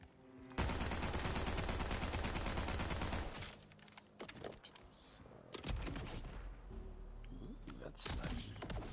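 Dense automatic gunfire from a weapon's alternate fire in Borderlands 4 roars loud and continuous for about three seconds, then breaks into scattered bursts and shots with a voice talking over parts of it.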